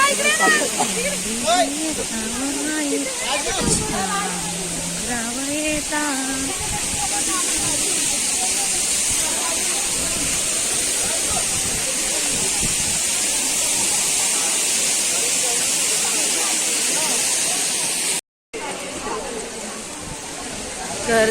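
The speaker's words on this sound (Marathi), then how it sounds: "धबधबा" A steady, loud rush of falling water roars throughout, with people talking over it in the first few seconds.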